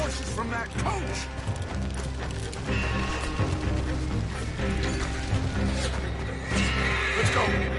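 Horses neigh and whinny in the Red Dead Redemption 2 video game amid clattering mechanical game noise, with voices talking over the action throughout.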